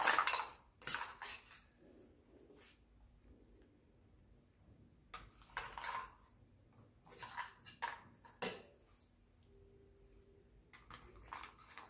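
Cooked lobster finished with butter is plated in a kitchen, with intermittent clinks and scrapes of utensils against dishes between quiet pauses, close and moderately loud.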